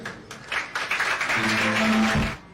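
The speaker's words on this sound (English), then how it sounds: "Clap hands for Jesus." A church congregation at a prophecy service claps hands together, starting with scattered claps that build into a dense, sustained burst before fading, with a held musical tone underneath.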